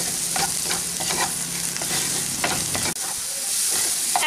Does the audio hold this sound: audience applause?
no